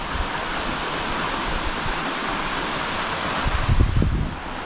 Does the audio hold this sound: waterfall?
yes